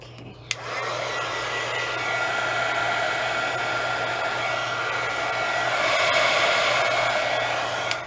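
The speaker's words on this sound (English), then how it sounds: "Let me run the heat tool." A heat gun runs on a waterless snow globe jar ornament with a continuous whirring fan hum and airy rush, close and loud, switched on after a brief click and held steady to the end.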